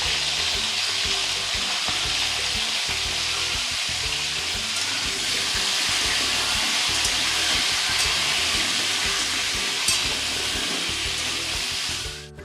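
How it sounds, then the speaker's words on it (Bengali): Potatoes fry steadily in a pan with salt and turmeric for a curry of small potatoes and mutton fat, a dense continuous sizzle with occasional stirring scrapes, close and loud throughout, with no talk. "আলুগুলো আমি ভালো করে ভেজে নিয়েছি।"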